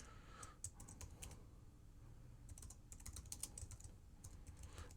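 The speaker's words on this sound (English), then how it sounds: "Probably hear the clicking of my keyboard." A computer keyboard clicks in quick clusters of keystrokes during typing, faint and close, with short pauses between bursts over a low room hum.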